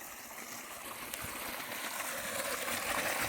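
Water flows at a farm, a soft continuous gurgle and trickle with a faint rushing wash that grows slightly louder toward the end, no talking over it.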